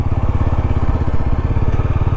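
A Yezdi motorcycle rides a mountain road, its engine loud and close, a steady throbbing pulse running throughout without talk.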